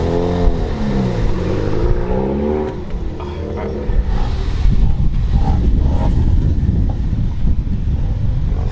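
A 500+ HP widebody RS car drives through a tight turn on a street, its engine a close, heavy rumble with a rising pitch early on, mixed with wind buffeting on the microphone.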